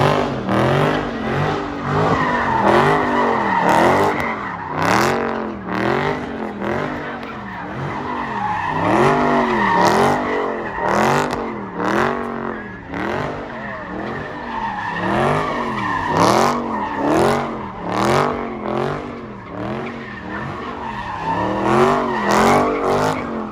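At a street car meet in Georgia, a car drifts in tight repeated donuts, its engine revving in a rising and falling wave while tires squeal and skid in a steady rhythmic cycle, loud and close throughout.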